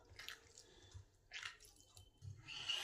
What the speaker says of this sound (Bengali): এবার এই ডাঁটাগুলোকে পরিষ্কার করে ধুয়ে নেব।